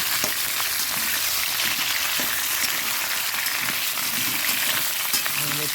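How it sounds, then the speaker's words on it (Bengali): Potatoes frying in hot oil for biryani, a dense, steady rain-like sizzle close by, continuous and even with a few faint clinks underneath. "আর এদিকে আলুটা তো একটু ভেজে নিচ্ছি"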